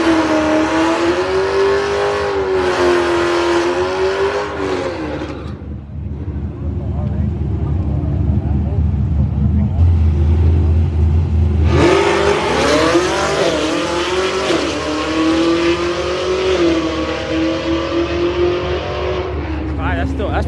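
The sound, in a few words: fast car accelerating down drag strip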